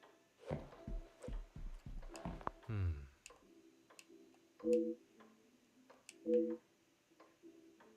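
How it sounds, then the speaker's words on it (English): Grandfather clocks tick in an Agatha Christie Hercule Poirot adventure game, a soft regular tick-tock under game sounds, with a few louder clicks and tones punctuating it. "Oh, grandfather clocks."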